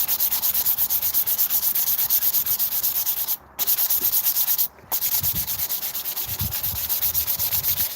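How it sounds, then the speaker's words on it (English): A Viking helmet being rubbed with a cloth, a loud, continuous close-up rasping swish of rapid back-and-forth strokes broken by two brief pauses. "I'm polishing my helmet now in the dark."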